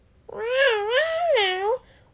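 A cartoon cat gives one drawn-out meow with a wavering, rising and falling pitch, heard clearly on its own with no talking.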